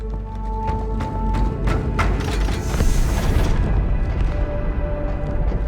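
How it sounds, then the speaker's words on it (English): A large explosion aboard a warship in Halo 2 Anniversary: a loud, deep booming blast swelling to a rumbling peak amid background score tones, then fading into a lingering low roar. "That explosion came from inside the Athens, same as the Malta."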